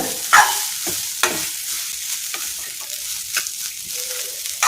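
Rice mixed with banana flower powder is stirred in a pan, with scraping strokes and clinks of a spoon against the metal over a light sizzle.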